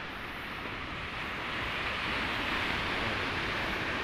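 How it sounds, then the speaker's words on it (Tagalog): Strong sea waves break on a beach at Natipuan, Nasugbu, Batangas, a steady broad surf roar that swells slightly louder midway, with no talking. "Malakas pa rin ang alon."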